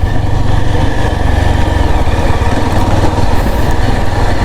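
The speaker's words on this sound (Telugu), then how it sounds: "engine noise" A Yezdi Adventure motorcycle engine runs steadily up close, a loud, even, buzzing drone with a fine rapid pulse and no talking over it.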